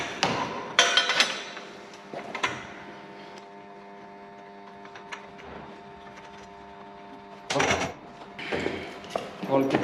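Lower end of a homemade steel adjustment strut for a solar-panel ground mount being screwed into place: sharp metallic clanks and scraping bursts near the start and end, with quieter threaded turning and a steady hum between.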